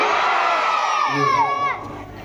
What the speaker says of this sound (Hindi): एक बार आप लोग भैया जोरदार ताली बजा करके जयकारा लगाएं।